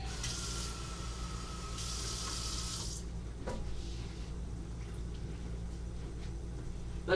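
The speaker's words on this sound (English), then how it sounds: "we need to throw a little water in there" Water runs from a tap into a pan of rice in a kitchen, a steady faint stream with a couple of brief brighter splashes early on and small clinks near the end.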